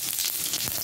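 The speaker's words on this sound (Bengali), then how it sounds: "একটু 5 ফোড়ন দিয়ে দিলাম" Panch phoron spices sizzling in hot oil in a home kitchen, a steady, close, bright hiss with small crackles throughout a brief moment, with no talking.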